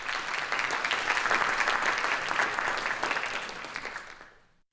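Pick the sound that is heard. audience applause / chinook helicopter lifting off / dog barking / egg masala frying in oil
audience applause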